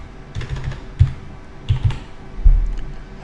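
A vehicle registration code is typed on a computer keyboard in quiet surroundings, with several short bursts of close key clicks separated by brief pauses.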